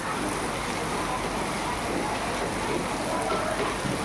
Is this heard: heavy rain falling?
yes